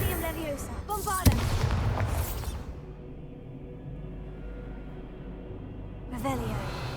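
A single sharp, booming blast from the Bombarda explosion spell in Hogwarts Legacy breaks through game sounds and voice. Quieter ambience follows, and another burst of sound comes near the end.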